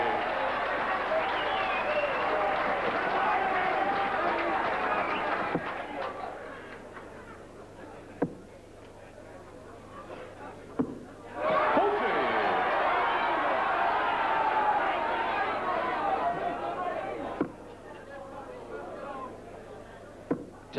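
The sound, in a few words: darts match crowd applauding and cheering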